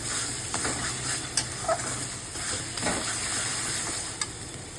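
Spice masala sizzles and fries in hot oil in a pan with turmeric powder while being prepared for mutton curry. A steady sizzle runs throughout, with occasional stirring scrapes and taps close by.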